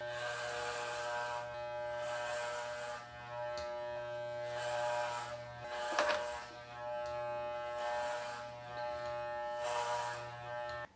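Electric hair clippers fitted with a number 8 guard run continuously, a close, steady buzzing hum that dips and swells as they pass through hair, with no talking.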